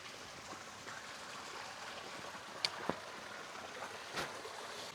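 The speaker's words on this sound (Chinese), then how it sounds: "这个山泉水稀里哗啦的响" Mountain spring water rushes through a valley near an abandoned old village, heard as a faint, steady watery hiss with a few brief knocks.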